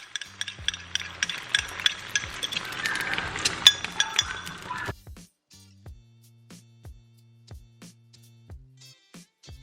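Eggs are scrambled with a utensil against a bowl, giving rapid rhythmic clinks and scraping up close that then slow to sparse, evenly spaced taps.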